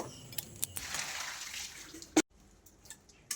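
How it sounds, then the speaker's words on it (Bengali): Pieces of baim fish are washed in water, with close sloshing and splashing, a sharp clatter midway, then quieter drips and trickles. "এবার আমরা ভালো করে মাছটা ধুয়ে নেব"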